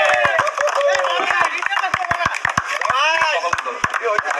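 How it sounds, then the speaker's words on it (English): A crowd at a cricket tournament award ceremony claps steadily and densely, with sharp claps close by, while a voice speaks over the applause throughout. "Round of applause for Sravan, please."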